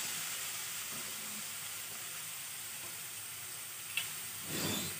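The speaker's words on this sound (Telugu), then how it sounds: "ఈ క్యారెట్ తురుముని కొంచెం పచ్చివాసన పోయేలాగా వేయించుకోవాలి." Grated carrot frying in ghee in a pan gives a steady, even sizzle and hiss for several seconds, with a brief stir or clink near the end and no voices.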